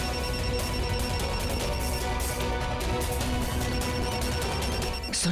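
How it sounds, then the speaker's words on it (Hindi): A mobile phone ringtone plays in a house, sounding from another room as a steady, loud, continuous melodic ring that fills the whole stretch without pause. "ये तो मेरी फोन की रिंग है।"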